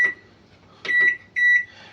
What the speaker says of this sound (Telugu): ఇప్పుడు మనం దీన్ని మైక్రోవేవ్ చేసుకుందామండి